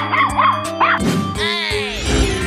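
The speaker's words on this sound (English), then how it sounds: "Dog." A cartoon dog in an animated animal clip gives a few quick, bright yips and barks, then a longer whining, whimpering cry, loud and close over a music bed.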